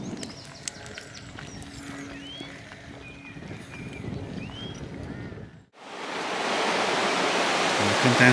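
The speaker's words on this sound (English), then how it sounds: "It looks like there's a bit of a sluice going on." Water rushing loudly through a sluice by a river along a country lane, a steady broadband roar that bursts in partway through after quieter outdoor ambience with faint hoof-like clops and birds.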